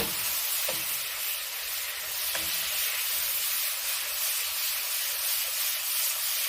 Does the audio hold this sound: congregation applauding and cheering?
no